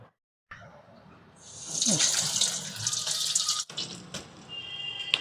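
Tap water runs into a sink and splashes over hands being wetted while shaping garelu from ground batter. It starts after a short silence, grows into a steady close gush with small splashes, and stops briefly before a quieter trickle.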